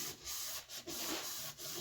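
Danish oil being rubbed by hand into an old, cracked wooden handle of a vintage Stanley curved claw hammer with an octagon handle: soft, continuous rubbing strokes, close and faint, with brief pauses between passes.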